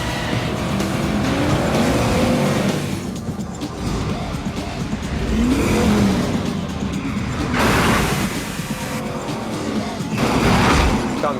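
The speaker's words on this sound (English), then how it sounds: "he's got a very, very exciting car chase" Car chase from the film Gone in 60 Seconds: engines roar and swell in repeated bursts, with tire squeals and heavy impacts, loud and continuous throughout.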